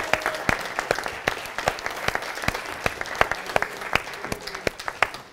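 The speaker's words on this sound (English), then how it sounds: "If you can give them a round of applause" Wedding guests at Crosby Lakeside give a lively round of applause, a dense, sustained clapping from a crowd with sharp individual claps standing out close by.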